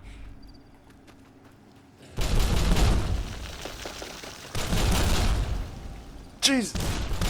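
Grenade blasts and gunfire in the video game Fallout New Vegas: two sustained loud bursts of rattling shots and booming impacts, separated by a brief lull, ending with a sharp whooshing sweep.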